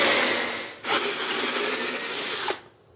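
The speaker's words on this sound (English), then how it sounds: "drill a pilot hole." A power drill whirs for about two seconds with a rhythmic pulsing as the bit bites into a Dana 60 axle, drilling a pilot hole, then winds down and stops.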